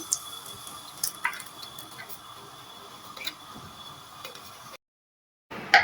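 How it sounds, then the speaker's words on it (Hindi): Ground yogurt and onion paste sizzles on full heat in a kadhai, a steady low crackling hiss with a few louder pops, cut by a brief silent gap near the end before a louder burst. "ये जो मैंने दही और प्याज को ग्राइंड किया था, ये कढ़ाई में डाल दें।"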